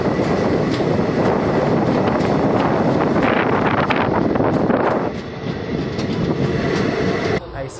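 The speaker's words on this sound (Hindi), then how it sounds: "मेचेदा से ट्रेन निकल चुकी है" The Shree Jagannath Express, with well-kept ICF coaches of South Eastern Railway, pulls out of Mecheda station in a loud, close rumble of wheels and carriages with buffeting wind, easing slightly toward the end.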